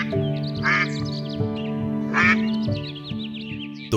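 Ducks quack in two loud bursts with softer chatter between, heard over a steady musical drone.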